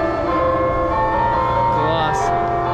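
Church bells ringing in Vitebsk, Belarus, sustained resonant bell tones with long ringing overtones that layer continuously, fairly loud, with faint background chatter.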